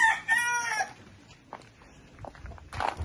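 A large native village chicken in a rural Benue State, Nigeria setting crows loudly, a rising harmonic call in the first second, followed by scattered softer clucks and a louder burst near the end.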